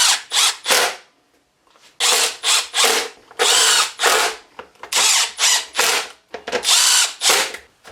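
A power driver runs screws into a plastic Echo leaf blower housing in repeated whirring bursts with ratcheting clicks, close up, separated by short pauses.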